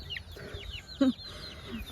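Chickens on a homestead garden clucking softly, with one louder close cluck amid faint background bird chirps and light outdoor ambience.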